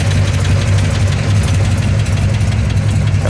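A 1962 Chevrolet Bel Air's 409 V8 idles steadily up close, warmed up, a deep, even rumble with a slight knocking pulse, loud and continuous without any voices.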